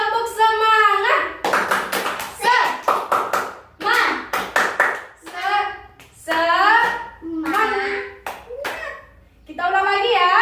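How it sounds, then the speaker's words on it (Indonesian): A class of children chants and claps a rhythmic 'tepuk semangat' cheer. Bursts of sharp, patterned hand claps alternate with loud group voices at close range over about ten seconds. "Kita tepuk semangat dulu ya."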